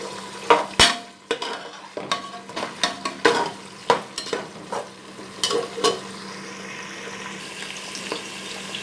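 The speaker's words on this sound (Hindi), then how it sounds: "प्याज को जो है हम थोड़ा सा भूनेंगे।" Onions sizzle softly in a pan while a utensil scrapes and stirs in a series of sharp clinks and scrapes, with no voices.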